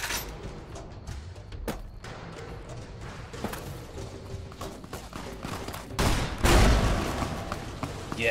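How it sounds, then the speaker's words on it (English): Grenades and gunfire fired at the player in the video game Fallout: New Vegas: a dense, continuous fusillade of shots and thuds throughout, with a louder blast near the end. "Are they shooting grenades at me?"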